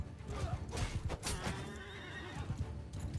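Horses in the Mount and Blade II Bannerlord battle game whinny loudly over a steady drum of galloping hooves, several mounts close by amid the clash of cavalry combat.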